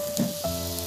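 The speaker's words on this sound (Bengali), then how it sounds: "ফ্রাইং প্যানে একটু জল দিয়ে দিচ্ছি," A splash of water hitting a hot frying pan while making a semolina and potato snack produces a brief, close sizzling hiss that settles into a softer crackle.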